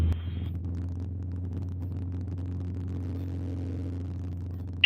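A light aircraft engine holds a steady, deep droning hum at full throttle as it rolls down the runway for a night takeoff from Pau, heard from inside the cockpit with no talk.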